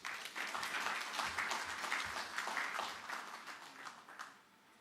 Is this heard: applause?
yes